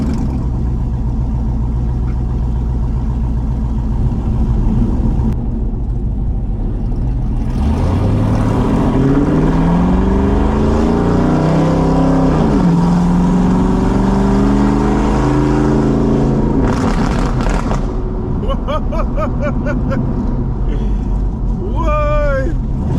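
Car accelerating hard through gear changes with a loud exhaust, the engine note climbing and dropping between shifts, close and sustained, with people talking over it.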